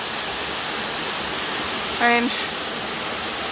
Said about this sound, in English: if you can hear me over the sound of the water